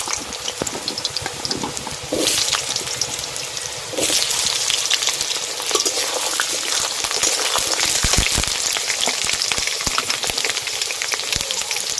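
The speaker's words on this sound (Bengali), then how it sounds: "এবার এই আলুগুলো ভেজে নেব।" Cut potatoes fry in hot oil for a vegetarian soybean recipe, a steady loud sizzle and crackle that swells into a stronger hiss partway through and keeps bubbling to the end.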